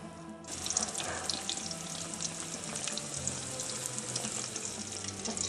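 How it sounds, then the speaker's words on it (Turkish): Kesgen, a Turkish fried dough dessert, frying in warm vegetable oil in a pan, giving a steady close bubbling sizzle that holds throughout with no talking. "Diğer yüzü de aynı oranda kızartıyoruz"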